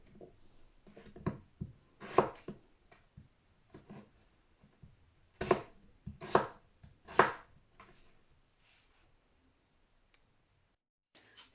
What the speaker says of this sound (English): So this is how I chop my potatoes.